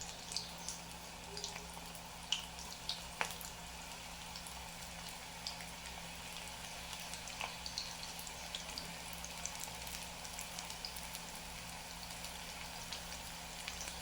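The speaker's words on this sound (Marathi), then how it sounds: "अशा प्रकारे पद्धतीने आपण आता कढईमध्ये भजी टाकलेली आहेत." Small onion bhaji fry in hot oil in a kadhai with a continuous soft bubbling hiss and scattered faint pops and crackles, steady throughout and alone.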